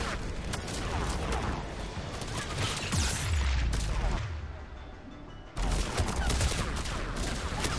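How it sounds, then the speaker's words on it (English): Mass Effect 3 combat gunfire, sustained bursts of rapid shots and heavy impacts with a brief lull before firing resumes loudly, mixed with talk. "Who the hell is shooting?"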